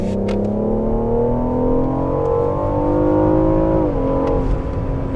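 A BMW M760i V12 fitted with an aftermarket exhaust roars loudly and steadily up close, its pitch rising through a sustained rev before dipping slightly near the end.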